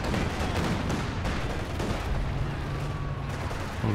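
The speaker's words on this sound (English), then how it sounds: "God, the artillery!" Artillery fire in the Company of Heroes 2 battle game, dense overlapping booms and rumbling blasts with scattered gunfire, loud and continuous, a sustained barrage filling the whole stretch.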